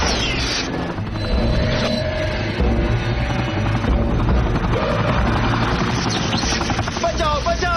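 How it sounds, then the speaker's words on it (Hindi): A troubled cartoon helicopter in an animated Iron Man series churns loudly with rapid rotor chopping, under a dense layered score and mechanical clatter that fills the whole stretch. "बचाओ बचाओ, हेलीकॉप्टर में प्रॉब्लम हो गई है।"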